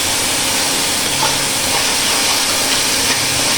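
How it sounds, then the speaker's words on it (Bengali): Ginger, garlic and onion paste frying in a pan, giving a steady, loud sizzle and hiss that runs unbroken from start to finish. "আমি আদা রসুন আর পেঁয়াজ বাটাটা একটু ভেজে নিই, যেন এর কাঁচা কোনো গন্ধভাব না থাকে।"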